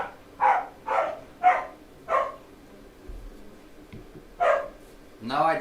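Dogs at home bark in a run of five sharp woofs spaced about half a second apart, then a pause and two more, fairly close indoors, with some quieter whimpering between.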